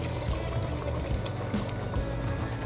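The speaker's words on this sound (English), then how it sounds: "So I'll add some beans to this with the broth that it came in." Beans and their broth slosh and pour from a can into a pot of beef and vegetable chili, a close, continuous wet gurgling and splashing with no talk.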